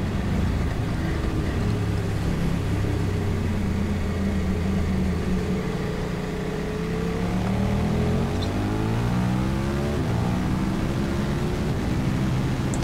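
A KTM 1190 RC8 R motorcycle laps the Circuit Carole, its engine droning loud and steady with rising and falling pitch through gear changes, continuous with no voices.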